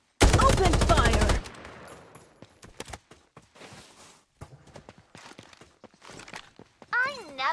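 Rapid automatic gunfire rattles loudly at the start of a video game match, followed by scattered sharp single shots and clicks, with game character voices heard near the end.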